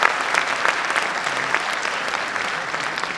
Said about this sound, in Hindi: एक बार फिर ताली बजा के स्वागत कीजिए।